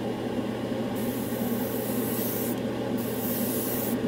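An airbrush fitted with a 2 millimeter needle sprays orange-yellow Stynylrez primer over pink primer on a Gunpla model, a steady close hiss with bursts of brighter airflow as the trigger opens.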